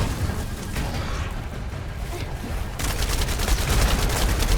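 Dense, rapid gunfire rattles continuously in the shooter game The First Descendant, loud bursts blending into a constant barrage that grows heavier toward the end.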